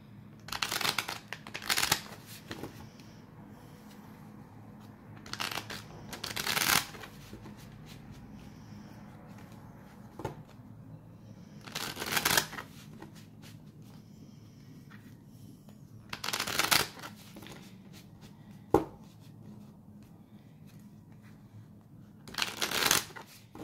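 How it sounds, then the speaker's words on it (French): A tarot deck is shuffled by hand in several loud, crisp riffling bursts spread across the stretch, separated by quieter pauses with light card handling. "je vais prendre le tarot comme à mon habitude. Je vais bien évidemment donc le mélanger devant vous."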